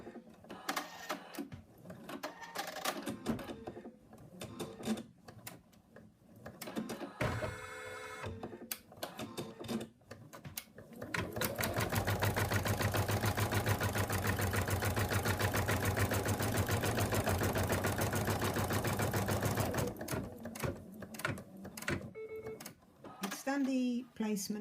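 An embroidery machine stitches a placement line, a steady loud mechanical whirring lasting about nine seconds, with talk and small handling noises before and after it.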